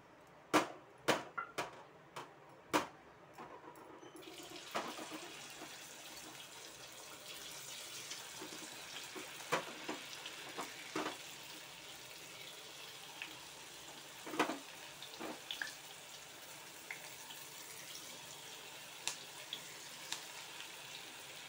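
Two green chillies deep-frying in hot oil for fasting bhaji, a steady bubbling sizzle rising after a few sharp clicks at the start and holding at moderate loudness.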